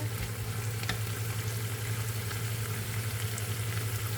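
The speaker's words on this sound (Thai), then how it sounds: "เสร็จแล้วเราก็ผัดค่ะ คนให้เข้ากันนะคะ" Food sizzles in a pan during stir-frying, a dense, even crackle with occasional soft stirring scrapes, close and steady with no voices.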